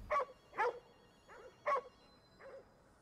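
A dog in the video game Ghostwire Tokyo barks several times in short, separate yips and woofs spread over a few seconds, moderately loud against a quiet game background.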